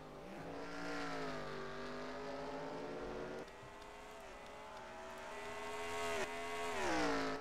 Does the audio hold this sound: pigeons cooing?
no